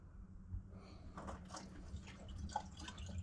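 Water is poured through a funnel into the thermostat housing of a C10 engine, a faint gurgling trickle with soft drips and splashes over a low background hum.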